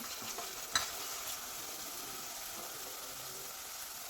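Onions fry and get stirred in a pan for a Kerala fish curry, a soft, quiet sizzle with one brief scrape of the spoon near the start, heard close and alone.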